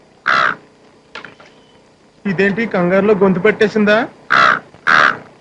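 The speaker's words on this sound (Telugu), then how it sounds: "కాకా హోటల్లో బిర్యానీ తింటే కాకి సౌండ్ కాక కోకిల సౌండ్ వస్తుందా ఏంటి?" In a film scene, a man who has eaten roadside hotel biryani gives loud, close crow-like caws with his voice, one burst before talking and two quick ones after.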